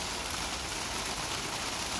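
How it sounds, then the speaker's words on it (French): Hail falling outdoors in Lausanne, a dense, steady pelting hiss of many tiny impacts, loud and continuous with no voices. "De la grêle."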